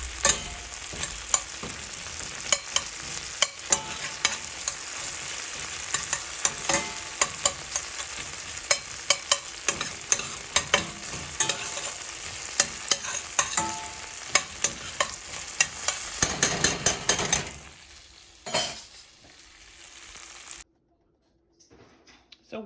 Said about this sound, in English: I'm going to go ahead and get this stirred up in here.